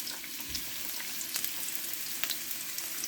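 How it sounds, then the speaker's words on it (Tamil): Chopped ginger and garlic frying in hot oil give a continuous, fairly quiet sizzle with scattered crackles and a faint stir. "இப்போ இஞ்சி பூண்டு வந்து நல்லா பொரியணும்"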